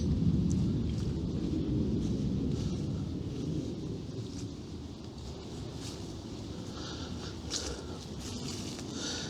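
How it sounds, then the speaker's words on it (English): A deep, steady roar of a heavy aircraft taking off, heard from a cemetery, rumbles continuously for several seconds, broad and low like a heavy engine at a distance, slowly fading slightly toward the end. "it's an aircraft taking off"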